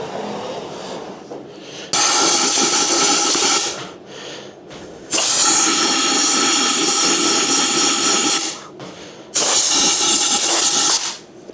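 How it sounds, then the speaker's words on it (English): Three long, loud bursts of compressed air blasting through a Harley-Davidson Road Glide part during a bagger build, each lasting a few seconds with brief quiet gaps between, harsh broadband hissing close to the microphone. "So I'm going to grab the compressed air and blow this out."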